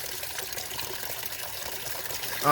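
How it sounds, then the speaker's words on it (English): Water trickles and splashes over a hump inside a waterfall aquarium tank grown with roots, a close, continuous watery burble that swells briefly at the end. "for some reason the water's somehow getting over this hump right here, and we're getting water flow back over into this side again"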